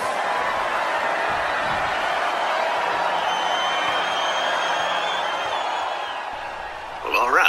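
Noisy arena crowd at a women's tag team wrestling title match, a dense roar of cheering voices held steady throughout, dipping slightly before a brief swell of shouting at the end.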